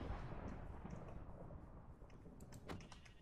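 Thunder in Minecraft rumbles low and steady at a distance, faint and continuous, with a few soft crackles near the end and no speech.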